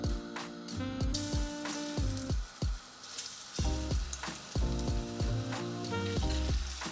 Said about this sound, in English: In a hot cast iron pan, we add some vegetable oil and we add our mix to it.